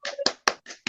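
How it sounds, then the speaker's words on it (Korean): Light applause from a small group welcoming a guest onto a Korean culture talk show, heard as four or five separate bursts of close hand claps over about a second. "여러분 박수 한번 쳐주세요."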